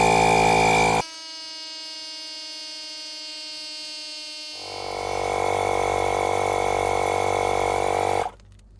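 A Milwaukee M12 portable tire inflator pumps up a car tire with a close, steady electric buzzing drone that shifts to a louder, rougher tone midway before cutting off abruptly near the end.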